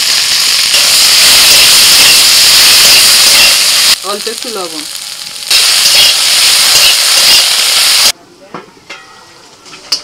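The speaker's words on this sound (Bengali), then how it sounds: "কড়াইতে তেল দিয়ে প্রথমে ঢ্যাঁড়সটা দিচ্ছি" Okra (bhindi) hits hot oil in a kadai and sizzles loudly and continuously, a harsh close hiss that briefly drops away and returns. A voice speaks over it before the frying fades to quiet clinks.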